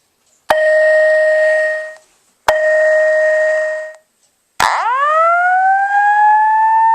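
A Wheelock ET-1080-SLM-24 fire alarm sounds close and loud: two long steady electronic tones with brief gaps, then a rising whoop-like tone that holds steady to the end.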